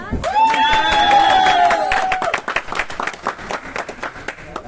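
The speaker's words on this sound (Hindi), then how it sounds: "आप सबकी जोरदार और गड़गड़ाती तालियों के माध्यम से" Loud, thunderous applause from a crowd at a business team event in India, dense clapping swelling strongly at first alongside a sustained tone, then thinning into scattered claps.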